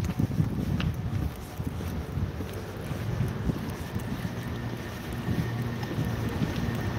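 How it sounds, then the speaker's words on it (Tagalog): Steady outdoor wind roars and buffets the microphone throughout, a continuous low rumble with no pauses. "Mahangin dito banda."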